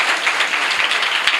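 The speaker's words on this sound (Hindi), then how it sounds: "तालियां बजाएं उन दादा के लिए" A church congregation applauds an elder, a dense wash of clapping that holds steady and fairly loud from start to finish, with no voices on top.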